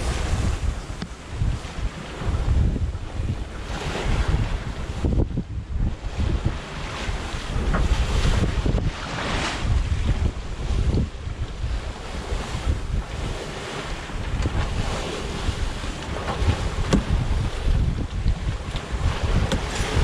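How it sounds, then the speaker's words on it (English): Strong 20-knot wind roars across the microphone while waves surge and slap against a moving sailboat, a loud, continuous rush with no voices. "it's gone really windy, 20 knots"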